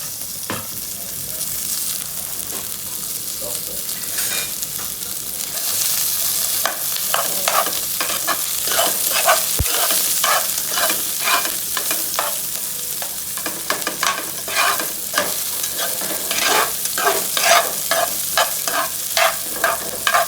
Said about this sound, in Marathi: आपण त्याच्यामध्ये कांदा टाकूया.